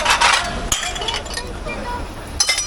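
Glass kitchenware clinks and knocks while someone digs through a dumpster, a bright cluster of clinks at the start and more near the end, with people talking close by.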